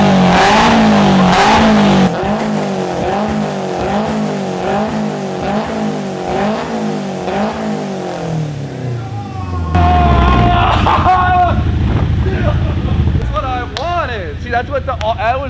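A Toyota AE86 rigged to shoot exhaust flames revs in rising and falling pulls. Loud bursts and crackling pops follow the revs, with rough, noisy stretches toward the end.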